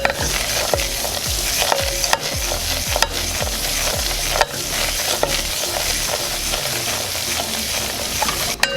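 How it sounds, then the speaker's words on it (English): A flour roux stirred and cooked in a pan for a Thanksgiving gravy, with a steady close sizzle and a regular rhythmic scraping of the spoon across the pan, loud and continuous with no talking. "you want to keep this stirring so that it has a little bit of color and it's cooked all the way through."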